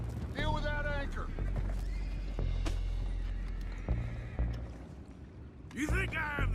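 Horses neigh and whinny, and hooves clop, during a chaotic scene in the video game Red Dead Redemption 2, with shouting voices, splashing water and clattering effects. Two whinnies come loud and close, one near the start and one at the end.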